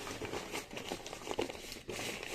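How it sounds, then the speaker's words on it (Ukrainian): Paper crinkles and crumples in short bursts close up, quiet rustling handled in bursts with brief pauses. "Ось так, замотую папером"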